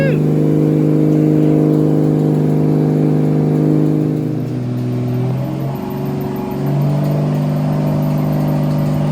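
A Toyota 1JZ-GTE straight-six running on E85 during dyno pulls, holding a loud, steady high-rpm drone that drops and dips midway, then settles back to a strong, even roar, close and continuous.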